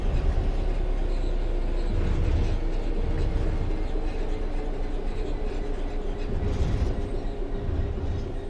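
A train in the video game Train Sim World 3 coasts on level track with the throttle off, giving a loud, steady rolling rumble and wheel noise that holds evenly throughout.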